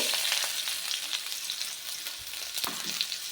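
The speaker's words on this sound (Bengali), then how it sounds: "তেল আমার গরম হয়ে গেছে। এইবার আমি পেঁয়াজ কুচিটা দেবো" Chopped onion dropped into hot oil in a kadai for masala Maggi: a close, bright crackling sizzle with scattered pops, holding steady and fairly quiet, no talk.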